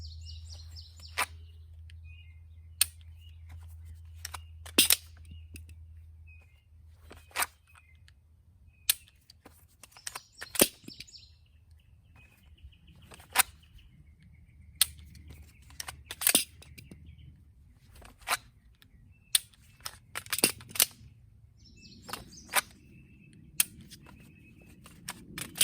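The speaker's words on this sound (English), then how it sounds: "we're gonna do a dry fire, drop mag, reload new mag out of the MOD1." Repeated pistol dry-fire and reload drills from a C&G MOD1 appendix inside-the-waistband holster: sharp metallic clicks, magazine drops and slide handling in a quiet room, each click distinct and spaced apart, with birds chirping faintly in the background.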